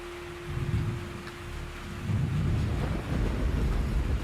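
Heavy rain pours down while low thunder rumbles and swells, the roar deepening partway through, close and loud.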